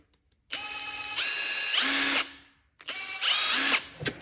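A Klein Tools impact driver with a variable speed trigger runs in two short bursts, each whine climbing in pitch as the trigger is squeezed harder, then cutting off; close, loud and alone.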